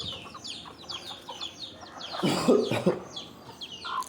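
Chickens clucking softly in the background, then a louder burst of squawking clucks up close near the middle.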